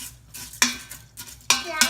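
A utensil stirs brown rice and water in an Instant Pot, several sharp scraping clinks against the metal inner pot in an uneven rhythm, close and clear.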